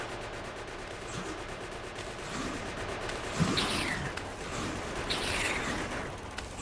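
Gunfire from the Factorio video game as the player shoots at attacking aliens, a busy crackling fusillade of rapid shots with screeching creature-like calls over a constant dense game background, no talk.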